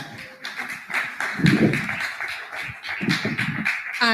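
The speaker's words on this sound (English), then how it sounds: "Let's give her a very big hand clap" Sustained applause from an audience at an international healthcare and social work conference, a dense, even wash of many hands clapping that swells slightly midway and carries on steadily throughout.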